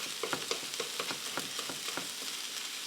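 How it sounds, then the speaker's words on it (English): Food sizzles and crackles steadily in a hot pan, with soft scraping and stirring noises breaking in at irregular intervals. "see, it's kind of frying up there"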